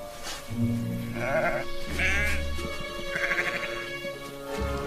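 Several sheep bleat one after another, wavering calls close by, over a low steady hum and background murmur.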